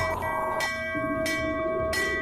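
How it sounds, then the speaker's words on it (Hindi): A bell rings insistently in the early morning, struck three times about two-thirds of a second apart, each strike leaving loud sustained ringing tones that overlap into the next. "ये घंटी रुक क्यों नहीं रही? कौन बजा रहा है इतनी सुबह?"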